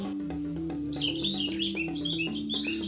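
A thrush sings a lively, varied run of high whistles and chirps, close and clear over a steady background hum.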